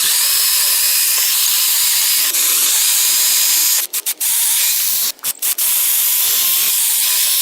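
A battery-powered circular saw, run off a solar generator battery, cuts wood in a loud, close, continuous hissing roar, with a few brief dips where the blade eases off near the end of the cut.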